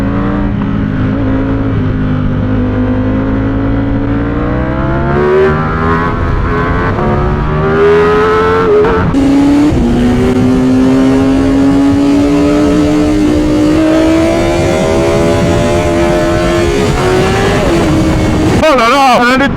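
A Ducati Streetfighter V4S motorcycle, a 2024 model, rides past cars with a loud, close engine whine that climbs and shifts through gears, its pitch rising and falling steadily the whole time.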